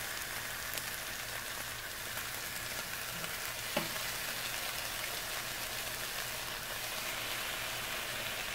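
Fish sizzles steadily in a frying pan with hot oil, giving a constant rain-like crackle and a brief clink partway through, with no talking.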